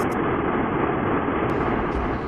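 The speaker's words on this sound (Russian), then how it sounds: "Сейчас вы слышите звук большого взрыва" A sonified rendering of the Big Bang is a dense, steady, roaring rumble that stays loud and unbroken throughout, like a distant jet, with no voices.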